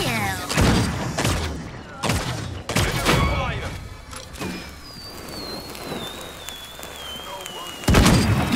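Gunfire in the shooter game Paladins, several sharp loud bursts spaced a second or so apart, with a whistling ability sound and voices mixed in.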